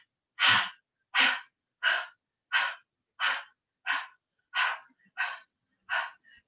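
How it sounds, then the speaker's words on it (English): Fiery breath, a rapid yoga breathing exercise: nine forceful, evenly spaced breathy huffs, about one every two-thirds of a second, loud and close with silence between. "we're going to do a little bit of fiery breath"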